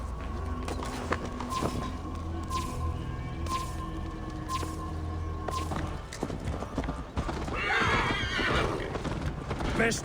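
A horse in Assassin's Creed Valhalla whinnies while its hooves clip-clop in a steady walking rhythm, close and clear over a tonal game soundscape, ending in a louder breathy rush.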